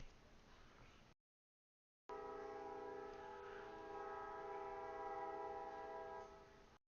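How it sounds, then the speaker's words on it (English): A train horn blares as the train approaches on the tracks, a sustained multi-tone blast lasting several seconds after a short burst of rumbling, heard at a moderate distance. "I hear the train coming."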